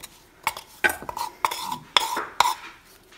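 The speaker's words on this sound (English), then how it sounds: "And just mix it all together." Spoon or utensil stirring wild garlic and grated Parmesan in a bowl, a series of close, irregular scraping clinks and taps against the dish.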